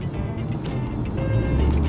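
Honda Accord Hybrid, final model, accelerating hard on a road, a steady low engine and road rumble swelling slightly louder toward the end, heard from inside the cabin.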